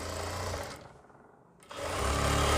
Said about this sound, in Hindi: चलिए दोस्तों मशीन पे चलते हैं और आपको सिलाई लगा के दिखाते हैं